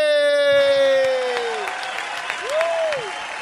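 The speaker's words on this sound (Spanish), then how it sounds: "quiero darle un aplauso y una bienvenida a mi mano derecha, a la Vale." Audience applause at a music festival, a steady wash of clapping from a crowd, joined partway through by a gliding electronic tone.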